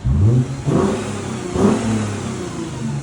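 A 2013 Lexus GS 350 3.5L V6 with resonators fitted revs hard twice in quick bursts, loud and close, settling into a rumbling idle between and after the blips.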